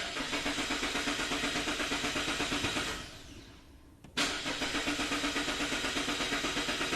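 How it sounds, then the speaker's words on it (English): A 2014 Mazda 6 engine idles steadily, then stalls and dies away to near silence. It catches again with a sharp jolt and settles back into a steady, throbbing idle, all close and without talk. "start the engine. After the engine stalls, crank the engine 2 or 3 times"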